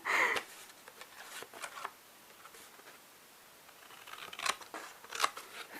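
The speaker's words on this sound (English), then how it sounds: "And then cut that top layer." Scissors snip through the top layer of a manila folder in a few crisp cuts, close and fairly quiet, with faint paper rustling in between.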